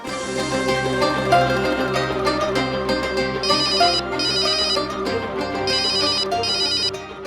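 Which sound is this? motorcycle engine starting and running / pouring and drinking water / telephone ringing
telephone ringing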